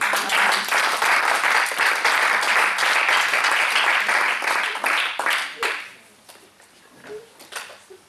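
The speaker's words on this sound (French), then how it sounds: "Acclamons la parole de Dieu." A church congregation applauds with loud, dense clapping that holds steady for about five seconds, then thins into scattered claps and fades. A voice speaks briefly toward the end.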